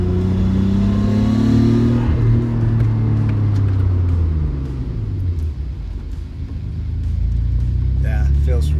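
A Nissan Skyline GTR with upgraded brake pads accelerates with a rising engine drone heard from inside the cabin, then slows hard as the engine note falls away, before pulling off again, with a voice talking over it.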